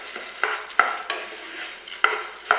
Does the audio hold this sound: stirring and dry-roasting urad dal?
yes